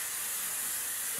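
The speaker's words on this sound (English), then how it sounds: "A quick spray." Redken hairspray is sprayed onto hair in one short, close, steady hiss from an aerosol can, heard alone without talk.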